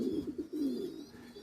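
A Spanish Pouter pigeon coos close by in a series of low, rolling, throaty coos with short gaps between them.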